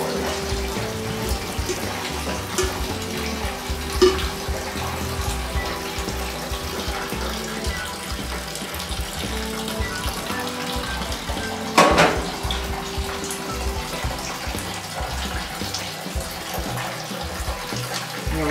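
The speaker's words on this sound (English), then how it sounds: "What you want to do is be able to rinse nice and gently and thoroughly these grains and get all the different starches out of your grist." Water pours steadily while brewing grains for an ESB beer are rinsed through a colander bucket, a continuous close splashing and trickling with occasional clanks of the bucket, including a sharp knock near the end.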